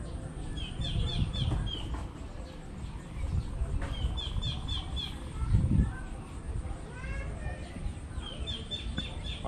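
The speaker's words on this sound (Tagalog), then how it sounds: "Sarap pakinggan nung huni ng ibon." Birds chirp and sing in the rural countryside, repeated high twittering calls at a moderate distance over a soft outdoor background, with a voice talking intermittently.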